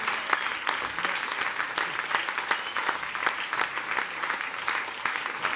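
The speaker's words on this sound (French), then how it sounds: "Encore un peu d'applaudissements pour ce quartet exceptionnel" An audience at a jazz festival applauds a quartet with steady, moderately loud clapping and scattered sharp claps throughout.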